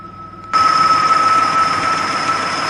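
A Nissan VG33E V6 at operating temperature idles with a rattle, a steady loud mechanical hum joined by a persistent high-pitched whine that kicks in abruptly after a quieter start.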